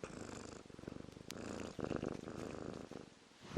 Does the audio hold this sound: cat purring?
yes